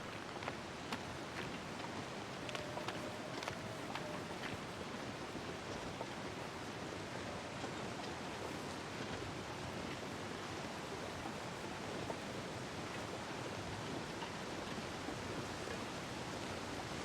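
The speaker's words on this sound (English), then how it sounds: "It does sound like we're coming up on a waterfall." Steady broadband rushing roar of a waterfall in the snowy wilderness of the survival game The Long Dark, constant and unbroken throughout, with faint higher crackles above the wash.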